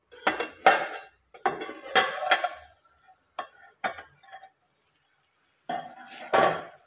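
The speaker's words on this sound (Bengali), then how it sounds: "চলো এবারে ঢাকনাটা খুলবো" Metal lid lifted off a cooking pot of frying egg and bottle gourd, with clattering clinks and scrapes of cookware in several short bursts, close and fairly loud, no talking.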